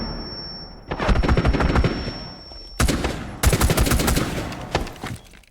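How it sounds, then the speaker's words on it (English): In an esports match of a competitive shooter, several loud bursts of rapid automatic gunfire are exchanged. They come in clustered volleys with short gaps and sharp cracks between them, and no talk is heard. "There's some shots exchanging out"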